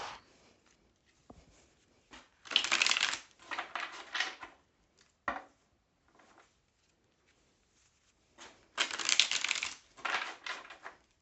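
Tarot cards being shuffled in several bursts of crisp riffling and pattering, close and moderately loud, separated by near-silent pauses.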